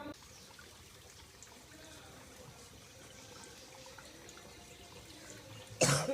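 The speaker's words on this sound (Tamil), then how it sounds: "இந்த ஊத்து போயிட்டு இருக்கு பாருங்க." A spring of drinking water at the Anuvavi Subramanyaswamy hill temple flows in a soft, steady trickle, faint and continuous, with a brief louder splash near the end.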